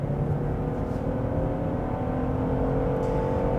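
A 2021 Genesis G80 3.5 twin turbo in sport mode at full throttle gives a steady, loud engine roar with road and cabin hum, heard from inside the car with no talking.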